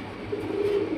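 A pigeon kept for sale coos close by, one soft throaty call lasting about a second with no talking over it.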